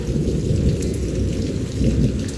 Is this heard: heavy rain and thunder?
yes